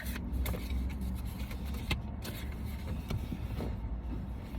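Cabin of a parked or moving car, a steady low interior hum with scattered small clicks and rustles close by, no voices.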